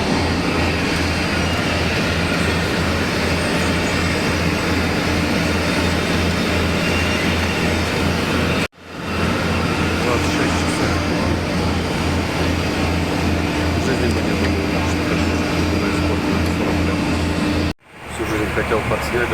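Steady, loud broadband roar of an airliner cabin in flight from Bangkok to Yerevan, a constant engine and air hum with two brief cutouts.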